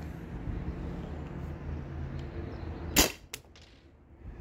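Two sharp, close pops from a Byrna TCR launcher fed by a modded HPA tank on a remote line, fired a fraction of a second apart over a low background hum.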